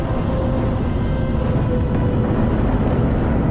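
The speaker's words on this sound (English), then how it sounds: "I hear engines." Spaceship engines in a Warhammer 40K Space Marine 2 cutscene, a deep, steady low rumble droning continuously at moderate loudness with no speech over it.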